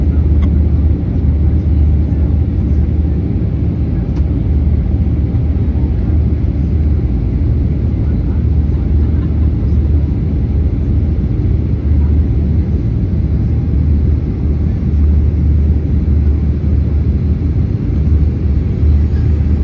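Steady, loud low roar of a Southwest airliner cabin in flight, a constant engine and air rumble with no break.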